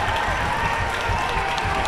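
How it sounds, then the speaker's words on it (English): A crowd at a high school boys basketball game against Holy Cross roars steadily during free throws late in a close game, a continuous, dense wash of cheering and clapping. "And this crowd is getting loud."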